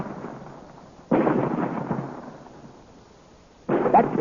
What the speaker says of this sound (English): Look, the rock is splitting. That's got it. The rock is destroyed.